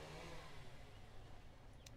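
A small moped engine revs outside a window, a steady muffled mid-pitched drone at a distance with no voices.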